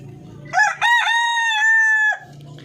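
A rooster crows once, loud and close, in a full drawn-out call lasting about a second and a half, with low background noise on either side.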